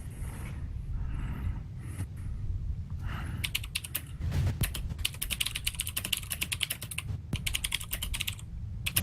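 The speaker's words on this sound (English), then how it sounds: "Nice typing sounds from Sid." Rapid computer keyboard typing, close and crisp, with bursts of clattering keystrokes that grow denser after a few quieter seconds of low background rumble.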